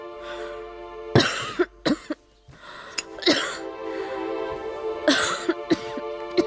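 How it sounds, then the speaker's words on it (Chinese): A woman coughs hard in a period drama scene, several harsh, separate coughs in uneven bursts over a faint background tone, close and loud. "姐姐咳嗽得如此厉害"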